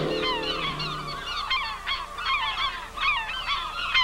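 Geese honk over and over in a noisy flock, their nasal calls overlapping, loud and nearby with no talking.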